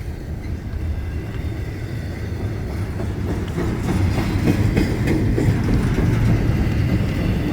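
A freight train rolls past on an active line at Steins, New Mexico, a loud, continuous low rumble with rhythmic wheel clatter that swells as it passes close by.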